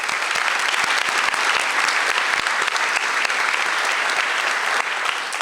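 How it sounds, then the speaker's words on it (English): Dense, steady applause from a large audience fills a school senior awards night, loud and continuous throughout with no talk over it. "Can we give them a round of applause for all their hard work?"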